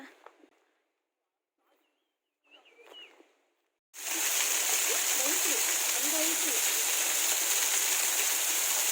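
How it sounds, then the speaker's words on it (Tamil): A small roadside waterfall in the hills of Chikmagalur, steady close rushing and splashing water that starts abruptly and fills the rest of the clip after a few seconds of near silence with faint sounds. "நடந்து வரும்போது வழியில் ஒரு குட்டி வாட்டர் ஃபால்ஸ் பார்த்தேன்."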